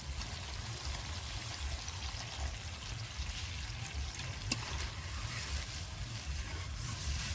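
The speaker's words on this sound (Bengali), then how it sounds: "এই সময় দিয়ে দিতে হবে জল, দিয়ে দেবো জল।" Water pours steadily into kadai fish masala cooking in oil, making a continuous close, hissing flow over a low bubbling rumble, with no talking.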